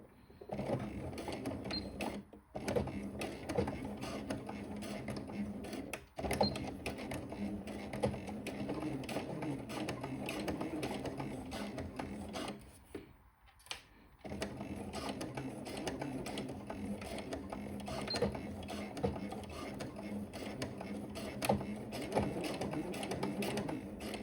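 A domestic sewing machine stitches an elastic seam on a Delta skirt with backstitches, running in rapid steady bursts with short pauses between them.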